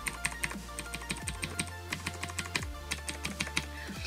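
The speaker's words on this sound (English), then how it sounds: "what it actually sounds like when I tap on the keys" Typing on a Razer BlackWidow Ultimate 2013 gaming keyboard with Cherry MX Blue switches, heard as a steady run of sharp, clicky keystrokes close to the microphone, alone and fairly quiet.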